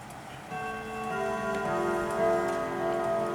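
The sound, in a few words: Howard Miller Bloomsbury clock chimes and ticking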